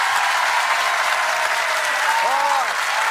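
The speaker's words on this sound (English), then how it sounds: "Give Andrew a big round of applause" Studio audience applauding on a television quiz show, a dense, loud, even wash of clapping filling the whole stretch, with a faint voice heard briefly beneath it.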